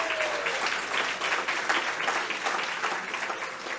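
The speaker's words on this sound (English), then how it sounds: "Round of applause." An audience at an awards gala applauds with a dense, steady burst of clapping that continues for a few seconds at moderate distance.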